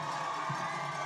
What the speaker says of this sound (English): And the crowd is going nuts here at the Tank.